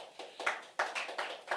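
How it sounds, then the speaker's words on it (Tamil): A church congregation applauding, with scattered bursts of claps that sound soft and somewhat distant, uneven in rhythm. "பிரவீனுக்கு ஒரு கைத்தட்டு கொடுங்களேன்."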